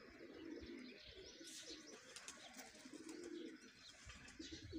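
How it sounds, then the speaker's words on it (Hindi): A pigeon coos in soft repeated low phrases near netting where pigeons gather, with faint chirps and background rustle, fairly quiet and alone without talk. "ये एक कबूतर आया हुआ है किसी का"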